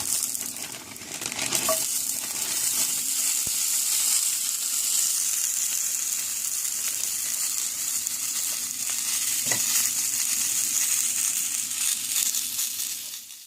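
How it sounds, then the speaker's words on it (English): Brussels sprouts fry in a pan with a loud, steady crackling sizzle that holds for over ten seconds, with a couple of brief clicks of utensils. "next I'm going to add half of my bag of Brussels sprouts"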